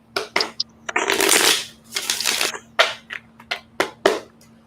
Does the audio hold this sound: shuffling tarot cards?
yes